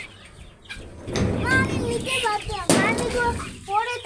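Chickens on a rooftop farm cluck and squawk nearby in short bursts, mixed with a voice and other people talking close by.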